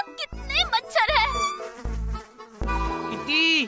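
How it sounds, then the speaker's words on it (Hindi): Cartoon mosquitoes buzz in a whiny, wavering drone, set among bright voiced sounds and musical tones, with the buzzing swelling near the end of a Hindi animated comedy scene. "देखिए यहाँ कितने मच्छर हैं।"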